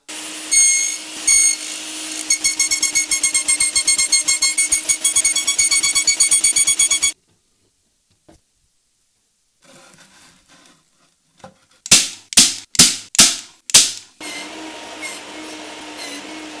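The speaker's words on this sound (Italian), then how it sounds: "Per farlo faremo tante passate al banco sega." A table saw whines loudly in a long steady run through wood, then silence, followed by several short sharp bursts of cutting, then a softer motor hum.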